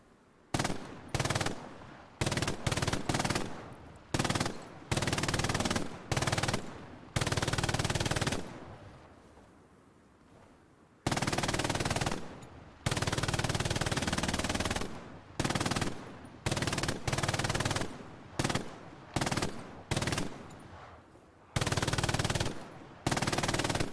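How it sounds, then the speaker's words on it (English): Machine gun fired during Easy Company training, loud bursts of automatic fire in repeated short and longer strings with a quiet gap in the middle, no talk. "Let's go ahead and start firing."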